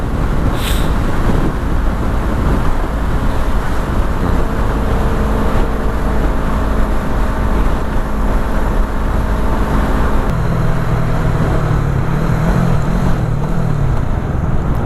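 Motorcycle riding along the road to school over an 80 km trip, a loud steady engine drone with heavy wind rush throughout, close and continuous.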